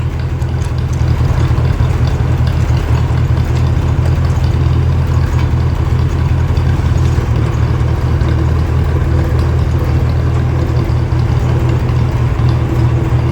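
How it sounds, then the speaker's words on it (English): An old tractor engine runs continuously at a low, rumbling idle, loud and close, with a steady chugging drone and no voices. "Tractor's first drive in a very long time."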